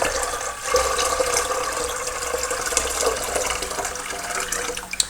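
Water pours from a tap into an IKEA pitcher while a betta fish tank is being set up, a steady, full splashing rush that runs without break and without any talking.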